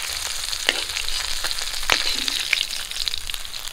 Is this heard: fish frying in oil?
yes